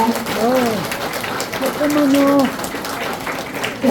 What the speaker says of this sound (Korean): 행운의 열쇠 전달과 함께 박수 부탁드리겠습니다.